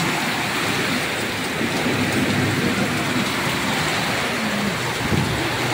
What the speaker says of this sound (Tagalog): Malakas pa rin ang ulan.